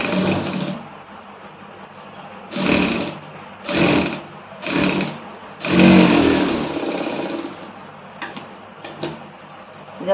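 A sewing machine stitches a folded quarter-inch fabric hem in four short whirring runs of under a second each, separated by pauses, fairly close and clear with no talking.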